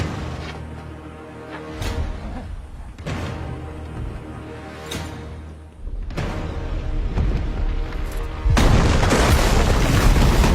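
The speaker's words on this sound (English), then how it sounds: "the moment that the King's Landing gate is obliterated by dragon fire" Booming blasts and rumbling destruction as dragon fire obliterates the King's Landing gate in a Game of Thrones battle, with several heavy impacts spaced across the stretch and a loud, dense roar building near the end.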